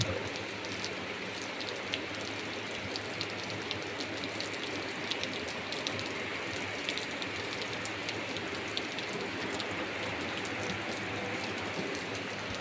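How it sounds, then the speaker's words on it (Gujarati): Steady rain pours down without a break, a dense even hiss of drops striking surfaces close by at a rural home, with no voices over it. "આગળ વરસાદ આવી ગયો"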